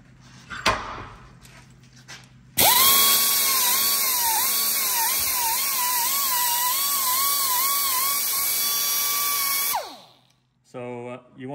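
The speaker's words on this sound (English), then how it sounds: "you want to kind of hold the grinding tool roughly at the angle of the thread." A high-pitched grinding tool whines steadily for about seven seconds, close and loud, its pitch wavering as it cleans up the threads on a K series engine block, with brief bumps and clatter before and after.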